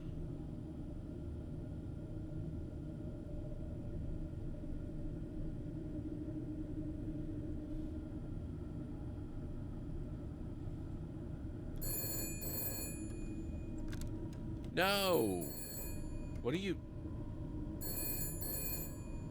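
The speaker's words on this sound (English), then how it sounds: "the phone is ringing" A telephone rings in the detective game Shadows of Doubt, with a few short bursts of ringing near the end that are loud over a low steady room drone. A voice calls out once partway through.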